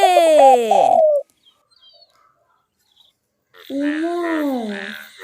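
A dove calling from a tree, with two clear cooing phrases, one at the start and one at the end, separated by a long quiet gap.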